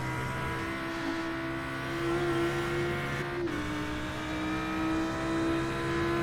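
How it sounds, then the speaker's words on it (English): An Audi race car with a V10 engine screams at high revs in an iRacing sim race at Road America. The tone is steady and harmonic, with a sharp shift near the middle as it changes gear, then climbs again. "Gotta love the sound of that Audi and that V10 engine just screaming up there."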